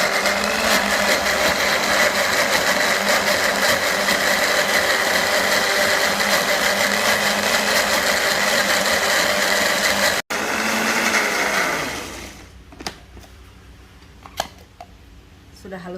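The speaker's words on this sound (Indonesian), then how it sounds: "Kita blender lagi." A kitchen blender whirs loudly and steadily for about ten seconds, grinding a satay maranggi beef marinade loosened with tamarind water. It briefly cuts out, restarts, then winds down and stops, leaving quiet clinks.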